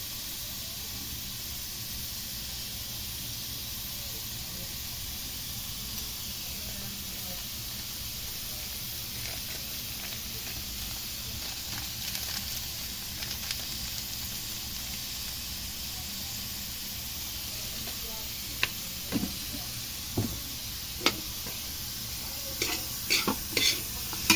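Small pieces of meat, salted, fry in a pan for laing, giving a steady close sizzle and hiss, with sharp scrapes and clinks of stirring growing more frequent toward the end.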